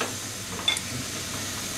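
Vegetable pinwheel bread rolls fry in a pan with a steady, soft sizzle throughout and a brief louder crackle midway.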